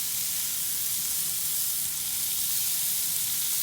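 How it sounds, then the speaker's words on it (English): Thick-cut bacon strips fry on a Blackstone griddle with a steady, close sizzle, a continuous bright hiss and crackle that holds at an even level. "I've got my thick cut bacon here. It's not too thick cut, actually. I'll get a few strips of it down."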